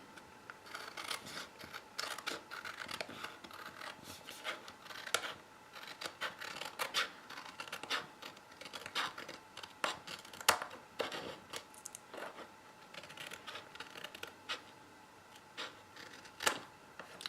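Scissors snipping planner paper, a series of faint, close, crisp cuts and paper rustles in an irregular rhythm, spread across a quiet room.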